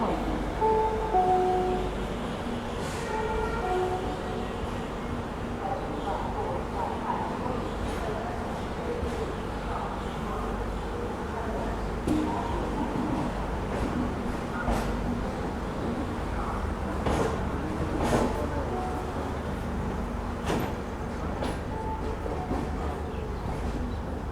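Shatabdi SuperFast Express 12025 pulling out of platform 6 at Pune Junction, a steady rumbling rail roll with clicks and carriage noise heard from onboard, with voices talking over it throughout.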